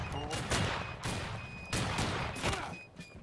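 Repeated volleys of gunfire from the video game Battle Cry of Freedom, loud overlapping shot bursts cracking out every second or so across the whole stretch.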